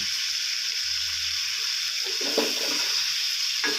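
Shrimp paste and stink bean stir-fry with fresh shrimp sizzling in a pan after a splash of water, a steady hiss with a few louder crackles and stirring scrapes, no talking.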